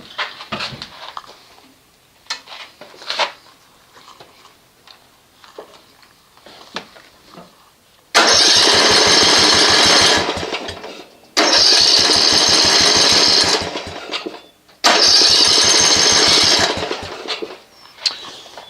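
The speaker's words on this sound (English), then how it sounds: "The mower won't start." Three loud, sustained bursts of a Snapper RER riding lawn mower's small gas engine cranking over without catching, each a few seconds long, separated by short pauses after some quiet shuffling.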